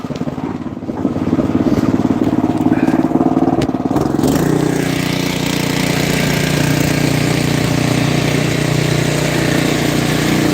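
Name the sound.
1970s Jensen snowblower engine running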